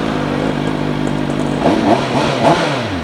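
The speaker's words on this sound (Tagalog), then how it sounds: "At ganito naman po siya i-start." A CFMOTO 750SRS motorcycle with its stock exhaust, heard up close. A steady low mechanical hum runs first, then the engine starts and gives a few short rising revs.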